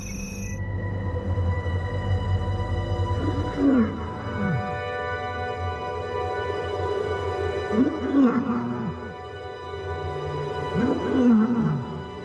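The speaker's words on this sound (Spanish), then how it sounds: "El característico grito roto y ancestral de la vieja leona." An old lioness gives rough, broken roars at intervals over a steady low hum and outdoor background noise, moderately close, in the Namib.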